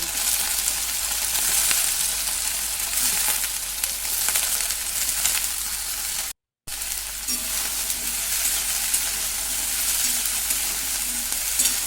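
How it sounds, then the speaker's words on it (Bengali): Cauliflower florets fry loudly in mustard oil with panch phoron and a dried red chilli, a dense, continuous close-up sizzle broken by one brief dropout. "এবার আমি ফুলকপিগুলো ভেজে নেব"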